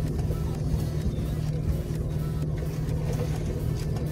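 Low, steady engine drone and road rumble from a car being driven, continuous and moderately quiet with no voices.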